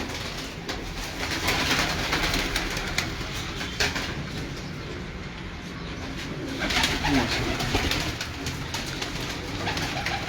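A flock of pigeons coos steadily from a rooftop, a dense continuous murmur of low calls with occasional wing flutters, close and fairly loud throughout.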